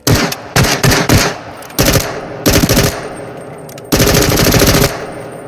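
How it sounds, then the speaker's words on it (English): An MP5K submachine gun firing in the VR game Into The Radius, loud close bursts of rapid automatic fire separated by short pauses, the longest burst near the end. "Now, if you want a proper submachine gun, this is what you need. The MP5K."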